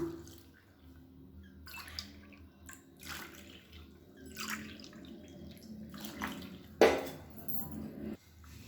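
Water is poured from a cup into a semolina and wheat flour batter for dosa, heard as a few quiet, separate splashes and trickles in short bursts, with one sharper clink near the end.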